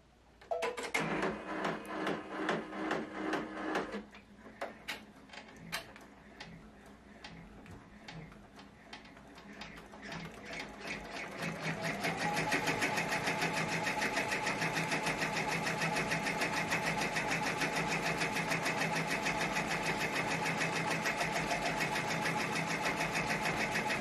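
An embroidery machine stitching on a T-shirt pocket held in a Durkee Fast Frame, running at its slowest setting of 400 stitches per minute, gives a steady rapid ticking mechanical rattle, with an intermittent start before settling into a continuous, louder run.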